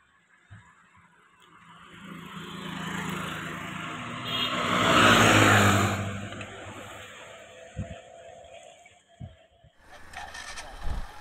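Two 110 cc commuter motorcycles, a Bajaj CT 110 and a Bajaj Platina 110, race side by side on a road. Their engines build from a distance to a loud pass and then fade, followed by a few brief bumps and knocks.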